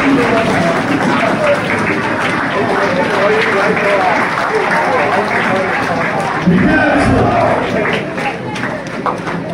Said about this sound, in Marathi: जरा सगळ्यांनी उभं राहायचं आणि जोरदार टाळ्या वाजवते यांच्यासाठी.